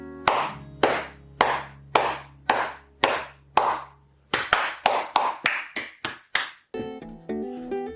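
Sharp single hand claps in a room treated with sound-absorbing acoustic panels, about thirteen evenly spaced claps, each short with a quickly damped tail, close and loud, with a steady low hum beneath and some tonal sound at the end.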